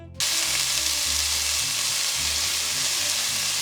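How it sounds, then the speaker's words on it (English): Chicken pieces sear in batches in hot olive oil, a loud, steady broadband sizzle that starts abruptly and holds throughout, with a low background hum beneath it and no voices. "we're gonna brown up this chicken, but we're gonna do it in batches"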